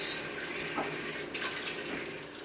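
A tap runs steadily into a sink while hands are washed in a home kitchen during cake baking, a continuous hiss of water with small splashes shifting through it.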